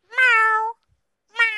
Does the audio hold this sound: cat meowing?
yes